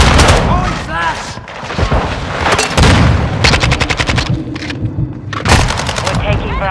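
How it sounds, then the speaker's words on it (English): Rapid bursts of automatic gunfire and booming blasts in a Call of Duty: Modern Warfare 2 multiplayer match as a Semtex grenade and a flashbang are thrown, loud and close, with a voice calling out over the shooting. "Throwing Semtex! Throwing Flash!"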